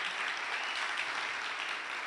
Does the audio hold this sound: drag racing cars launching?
no